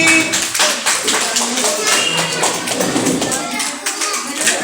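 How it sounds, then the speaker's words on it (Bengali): Steady applause from a small crowd at a medal ceremony for a conch-blowing competition, dense and continuous throughout, with voices chattering underneath. "হাততালি হাততালি"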